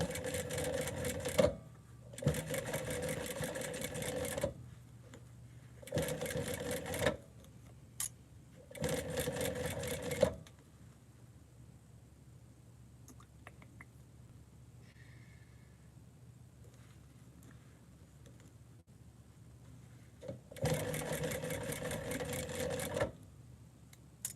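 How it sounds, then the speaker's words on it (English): A sewing machine works on garment alterations in bursts of steady mechanical whirring, several short runs separated by quiet pauses, with a longer stretch of near silence before a final run. "when you're sewing this, you don't want to pull or anything. Just gracefully sew."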